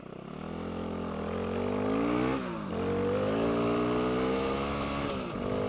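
Dirt bike engine holding a steady, loud drone on a dirt trail in third gear, with a brief dip in revs midway and again near the end before the throttle picks back up.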